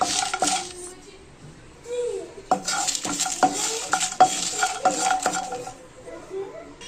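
Dry red chillies and cashews are dry-roasted in a kadai for a chicken gravy. A metal spatula knocks and scrapes the pan in sharp, irregular clinks over a light rustle and sizzle, close up, with no speech.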